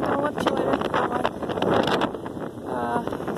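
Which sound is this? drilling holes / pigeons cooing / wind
wind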